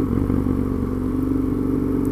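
Husqvarna Nuda 900R motorcycle engine on a test ride, a loud, steady throbbing run with a dense low rumble and no pauses.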